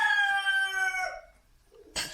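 A rooster crows loudly and close in an outdoor chicken run, one long drawn-out call that fades, followed by a short sharp squawk from the free-range flock.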